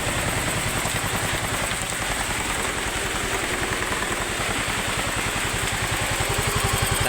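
A repaired motorcycle engine idles steadily and evenly, a continuous close chugging rumble with no talking over it.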